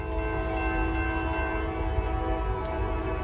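Norfolk Southern northbound empty grain train rumbling past at Gaffney, SC, with steady low engine drone, tonal horn-like hum and faint wheel clatter, continuous and moderately close.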